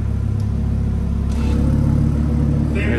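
An Audi TT RS five-cylinder engine with a titanium exhaust, valves open, idles and rumbles steadily with a deep, throaty exhaust tone, fairly close and continuous throughout.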